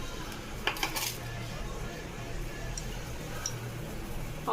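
A pan is set on a stove to heat oil, giving a few sharp metallic clinks and knocks over a low kitchen hum, with no talking.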